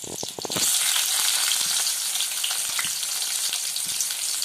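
Onion drops into hot sesame oil with a few brief clatters, then a loud, continuous close-up sizzle holds steady, with faint stirring taps and no talking.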